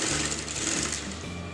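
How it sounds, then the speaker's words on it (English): Sewing machine stitching fabric onto a kurti neckline: a close, steady motorized whirring with a rapid needle rhythm and slight pitch shifts as the stitching speed changes, running alone without talk. "I'm going to sew that on the neckline top just to secure both the pieces together"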